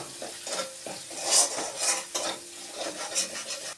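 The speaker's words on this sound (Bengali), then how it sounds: "এবার আমি একটু ভালো করে কষিয়ে নেব" Ground spices are stirred and fried in a pan for dal with bottle gourd greens, giving short, rhythmic scraping strokes over a light sizzle, close and clear.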